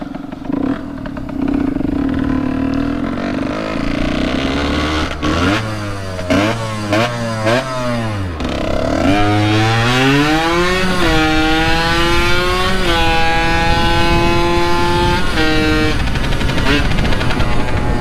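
A vintage Yamaha YSR50 motorcycle's small engine idles steadily and close by, then revs in rising and falling bursts that climb to a sustained higher pitch, with no talk over it.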